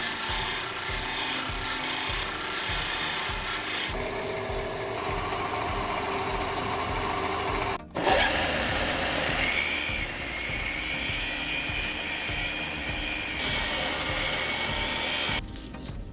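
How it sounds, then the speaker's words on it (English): A T5K6 carbide lathe insert is ground on an abrasive grinding wheel, producing a continuous loud, gritty grinding rasp over a motor hum, with one brief break midway as contact shifts, then steady grinding again. "We'll sharpen it on an abrasive grinding wheel first, and then finish it on a diamond cup wheel to make it razor sharp."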